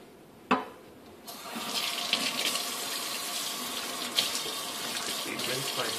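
Tap water runs into a kitchen sink while a knife is rinsed, starting after a sharp knock and a brief quiet pause, then a steady close splashing stream with a few clatters.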